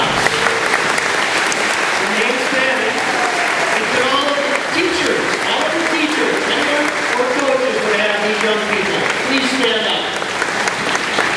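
Sustained audience applause fills a graduation ceremony for a high school class of 2012, a dense, steady wash of clapping hands from a large crowd that holds at an even loudness for the whole stretch.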